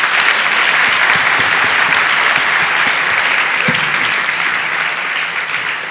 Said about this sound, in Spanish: el aplauso estaba súper